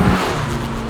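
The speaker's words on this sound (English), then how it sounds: "Really nice little snicky gear shift, nice suck of induction as you change gear." A high-performance road car with a slick manual gear shift gives a short rush of induction noise as the engine pulls through a gear change, a loud, close whoosh over the engine note with no talk.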